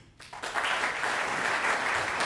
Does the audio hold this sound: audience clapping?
yes